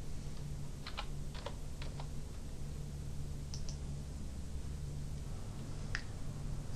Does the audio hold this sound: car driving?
no